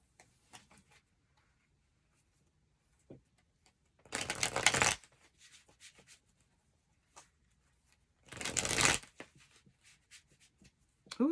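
Tarot cards shuffled in two loud bursts of riffling about four seconds apart, with faint ticks and light handling sounds in the quiet gaps between.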